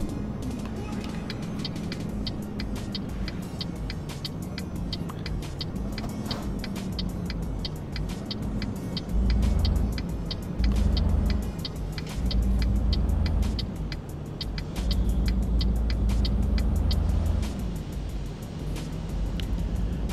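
Steady low engine drone of a heavy truck hauling acetylene gas cargo in Euro Truck Simulator 2, continuous throughout with faint periodic ticking, like an indicator, and a slight swell midway.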